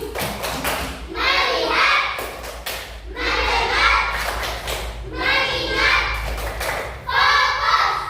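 Children in a classroom chant and clap in unison through a short rhythmic group clapping routine, loud and near, in several repeated bursts separated by brief gaps.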